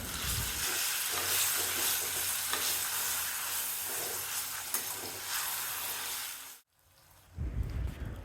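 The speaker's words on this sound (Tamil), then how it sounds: "இப்போது மசிச்சு வச்சுருந்த நேந்திரம் பழத்தை இந்த நெய்யில் சேர்த்துட்டு அடுப்பை லோ ஃப்ளேமில் வச்சு ஒரு 2 நிமிஷத்துக்கு நல்லா வதக்கணும்" Mashed nendran banana sautéing in ghee over a low flame, a steady soft sizzle with stirring scrapes for several seconds, then a brief dip to near silence before the frying sound returns.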